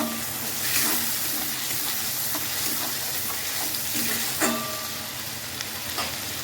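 Spice paste sizzles and fries steadily in a pan for an Indian vegetarian potato dish, made without onion or garlic, after a splash of water, with a constant hiss and occasional stirring scrapes.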